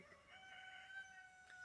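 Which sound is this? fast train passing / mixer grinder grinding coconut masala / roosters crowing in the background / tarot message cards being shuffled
roosters crowing in the background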